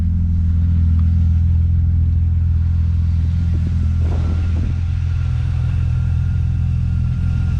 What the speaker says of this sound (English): Well, it sounds like it's idling smooth.